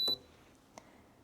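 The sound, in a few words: Shinco 30 pint dehumidifier beeping when turned on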